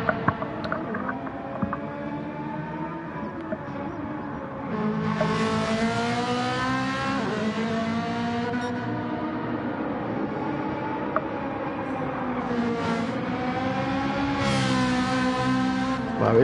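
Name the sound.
Ferrari race car engine in the video game Gran Turismo Sport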